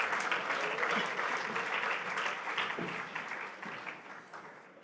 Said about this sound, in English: One more round of applause for our finalists.